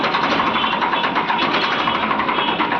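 A Farmtrac tractor engine running at idle, a steady close-up droning rumble with an even mechanical texture throughout and no talking.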